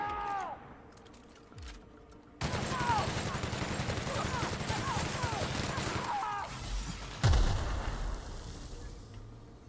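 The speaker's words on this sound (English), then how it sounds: "he's got a rocket launcher" Rocket launcher fire and heavy combat erupt in The Outer Worlds, a loud burst of blasts and crackling gunfire that continues steadily, with a sharp explosive hit near the end before fading.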